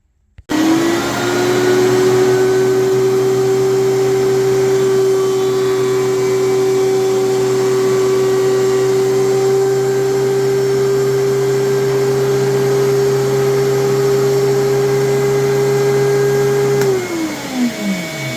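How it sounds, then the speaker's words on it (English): A thickness planer smooths a glued-up wooden cutting board with a loud, steady motor whine and roar that holds for about sixteen seconds and then spins down at the end. "Now I'm just going to run it through the thickness planer again to smooth everything out."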